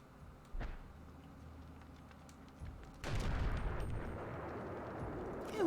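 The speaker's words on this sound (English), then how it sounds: "What if I shot a grenade at it?" A grenade launcher fires in Eternal Darkness: Sanity's Requiem. A couple of short thuds are followed by a louder blast that trails into a sustained rumbling roar, all against quiet background ambience.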